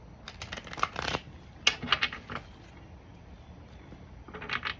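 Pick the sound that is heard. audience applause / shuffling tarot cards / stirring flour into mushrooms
shuffling tarot cards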